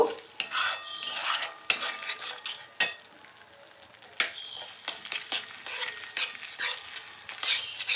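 A spoon clatters and scrapes in a pan as spice paste fries in oil over medium heat, giving irregular close metallic stirring knocks over a soft sizzle.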